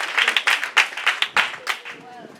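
A church congregation at a Sunday service claps in a burst of rapid, uneven applause that fades out by the end, loud and close. Voices mix in with the clapping.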